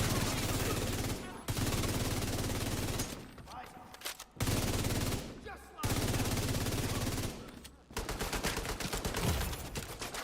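Sustained machine gun fire in a video game, long loud rapid bursts broken by brief pauses, with the last burst sounding as faster, separate cracks.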